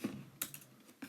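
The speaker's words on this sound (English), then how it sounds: "I'm just typing it into Google" A few quick keystrokes tapped on a computer keyboard, quiet and close, in a short, irregular burst of clicks.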